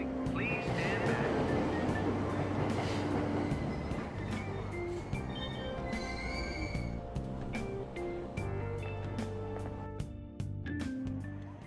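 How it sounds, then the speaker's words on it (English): Train ambience from the game Persona 5 Royal, with a continuous loud rumble and clatter of a train moving off after the doors close, plus scattered sharp clicks and squeals throughout, under faint voices. "Train doors are now closing. Please stand back."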